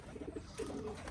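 Racing pigeons coo softly, with a few low, throaty notes in a short burst, faint and a little distant.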